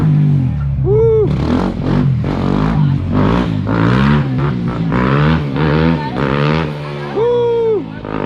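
Dirt bike engine revving hard in repeated rising and falling bursts on a lot during wheelies, loud and close, with people shouting and talking over it.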